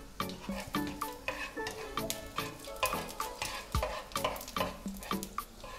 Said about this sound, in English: we are just going to put in some dried shrimps Okay, saute that for a bit.